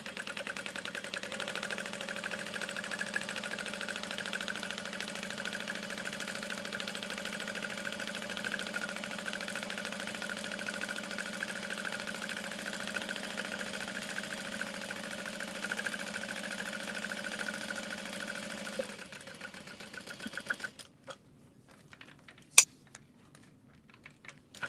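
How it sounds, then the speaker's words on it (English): A sewing machine topstitching around all four sides of a folded crossbody strap, a steady mechanical whir running continuously for about twenty seconds before stopping, followed by a few faint clicks. "now I'm going to top stitch around all 4 sides"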